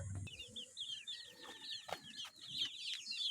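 Pet chicks peep in quick, high chirps that run almost continuously, close by and fairly faint, with a brief low thump at the start and no talking.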